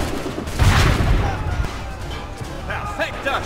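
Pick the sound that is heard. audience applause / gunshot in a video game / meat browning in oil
gunshot in a video game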